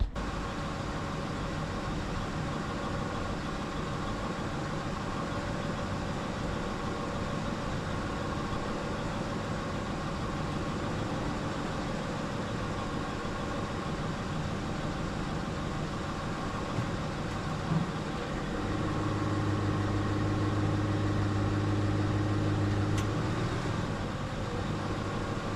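A 2006 Ford F-150 pickup's engine idles steadily as the truck backs up, a continuous low rumble that swells slightly near the end, with no voices.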